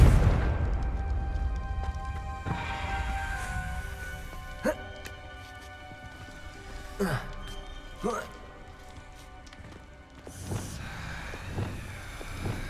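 The Confringo blasting spell going off in the game Hogwarts Legacy: a heavy low boom at the start, then scattered sharp cracks and impacts over a droning ambient hum.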